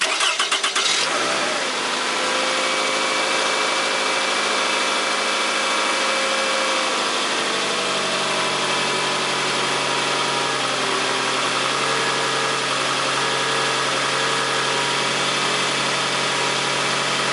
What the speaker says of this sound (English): have someone else start the engine